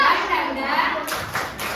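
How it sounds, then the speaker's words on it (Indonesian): Children clap together in a quick, noisy burst, their voices mixed in with the clapping. "semuanya tepuk semangat"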